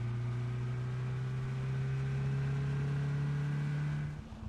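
A vehicle engine droning steadily in PUBG as it drives off, a close, continuous hum that holds level and then fades down at the end.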